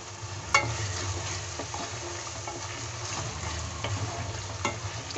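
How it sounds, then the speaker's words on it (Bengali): Spices fry in oil for a chicken curry, making a continuous low sizzle close by with occasional sharp ticks and pops over a steady hiss. "এই মশলাগুলো আমি একটু ফ্রাই করে নেব।"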